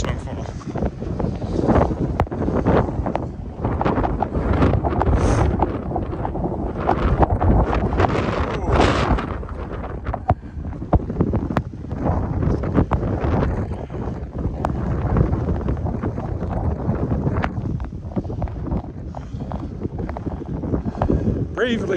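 Strong blizzard wind buffets the microphone during a winter walk in Regina, a steady loud roar and rumble with gusting bursts that runs unbroken throughout.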